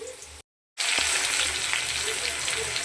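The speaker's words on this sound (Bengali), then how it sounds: "আলুটা ভাজা হচ্ছে" Potatoes frying in hot oil in a home kitchen pan for a thin rohu fish curry, a loud steady sizzle after a brief silent gap, with occasional stirring.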